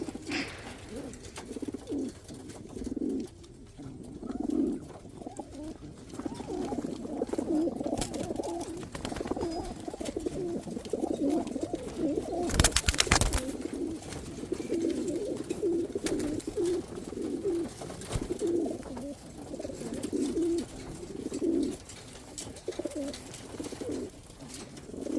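Racing pigeons coo continuously in a loft aviary, layered low rolling calls overlapping from several birds nearby, with occasional rustles and one brief burst of noise partway through.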